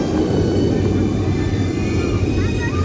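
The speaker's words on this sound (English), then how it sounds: "then you're gonna see the train drop into a fog tunnel" A steady, loud rumble of a roller coaster train climbing a lift tower at Efteling, under clattering mechanical noise, with a faint whine rising near the end.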